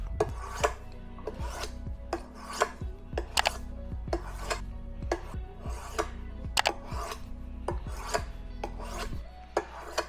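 Cheap one-dollar knife scraped back and forth across an oiled whetstone, a steady series of rasping strokes at an even rhythm, close and fairly quiet, with no talking.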